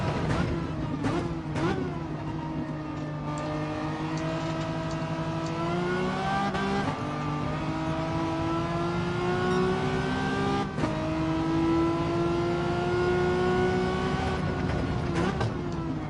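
A Renault Megane race car in a racing video game holds a loud, buzzing engine note that climbs and dips through the revs, with a few brief gear-change breaks along the way.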